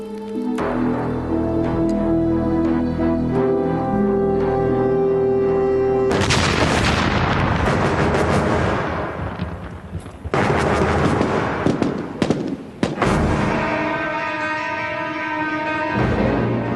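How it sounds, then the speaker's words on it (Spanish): Buried land mines blow up in the desert outside Arica. A loud, rumbling blast swells abruptly over steady music, roars for several seconds, and is followed by a few sharper bursts and crackles before the music resumes. "habíamos hecho estallar 2 de 8 minas enterradas en el desierto"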